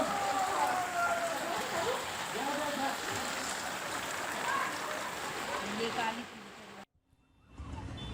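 Heavy, non-stop rain pouring down in Bhiwandi, Thane, amid flooding and traffic jams, a dense steady roar of falling water with faint street noise, cutting out briefly near the end before resuming.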